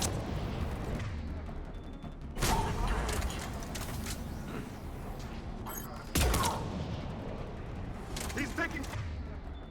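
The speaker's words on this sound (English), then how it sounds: "He's taking fire! Protect him!" Gunfire in the Mass Effect Legendary Edition video game: a continuous crackling fusillade with two heavier bursts standing out, mixed under brief shouted dialogue.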